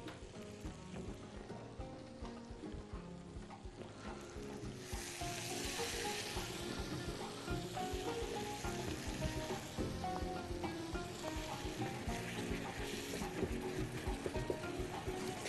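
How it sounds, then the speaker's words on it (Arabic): Chicken breasts grilling in butter in a pan, a steady crackling sizzle that grows fuller and louder partway through and then holds, with no talking over it. "نبدا نحط عندنا صدور الفراخ ونبدا ايه نشوي بقى"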